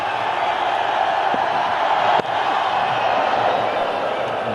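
A large stadium crowd at an India versus Pakistan one-day cricket match in Mohali keeps up a broad, steady roar of cheering as a free hit is signalled, while commentary carries on over the noise.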